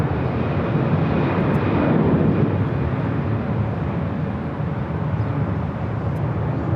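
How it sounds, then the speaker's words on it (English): An Airbus A330-200 freighter takes off at LAX with a loud, sustained jet engine roar that holds steady throughout, broad and continuous with no talk. "taking off to, is it Wuxi? On the A330-200 freighter."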